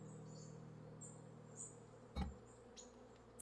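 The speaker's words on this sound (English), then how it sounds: "Well, I can hear dem bees" Bees at an apiary in the game Wytchwood hum faintly as a soft, steady buzz beneath a low background drone, with a brief thump partway through and a few light higher chirps.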